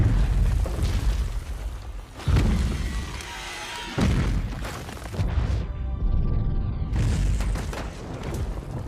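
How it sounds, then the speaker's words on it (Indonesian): Black powder blasts go off in a film battle scene as deep booming explosions, several heavy bursts in a row, loud and rumbling under dense cinematic noise. "Lin pun bergegas mempersiapkan bubuk hitam yang menjadi senjata rahasia tentara Cina"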